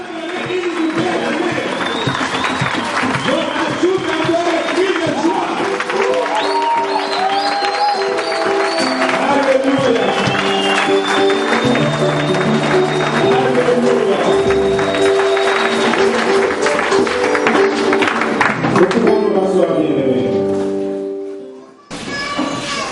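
A church congregation applauds and acclaims Jesus with sustained clapping and raised, sung-like voices that hold loud for about twenty seconds before fading out near the end.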